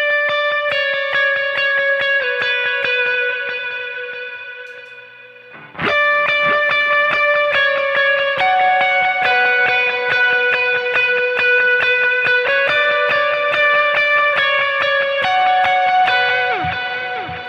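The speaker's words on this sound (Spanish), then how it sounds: "le bajo un poco al reverb y activo un over un poco más" An electric guitar plays a worship-song pre-chorus melody through reverb and overdrive: sustained, ringing distorted notes, loud and close, with a brief fade and pause partway before the phrase resumes.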